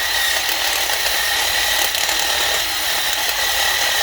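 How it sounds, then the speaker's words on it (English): A wire wheel spinning on an impact driver scrubs the brake mating surface of a 2019+ VS30 907 Sprinter 2500 during a front brake job, giving a loud, steady, close-up whirring grind with no talking. "And then we go back to the good old wire wheel on the impact driver and just give it a quick"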